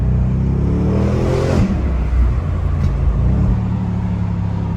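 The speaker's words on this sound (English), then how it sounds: "You even get a little bit of backfire here and there when you downshift." An Audi RS7 engine revs loud and close from inside the car, its deep rumble rising and dropping through shifts, with a brief crackle as it comes off throttle.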